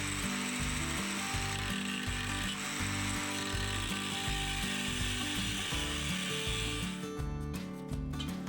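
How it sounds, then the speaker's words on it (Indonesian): A power tool grinds steadily through metal plate for a homemade shredder hopper, a dense continuous whine with a rhythmic mechanical churn underneath, loud and close, alone without talk. "Buat lubang di keempat sudut pada pola yang sudah dibuat, kemudian potong seperti berikut."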